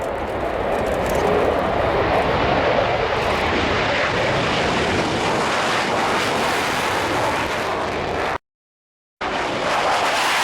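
A Polish Air Force Su-22 M4K jet roars past at the Royal International Air Tattoo, a loud, sustained engine rumble with wind buffeting, briefly cut to silence before resuming.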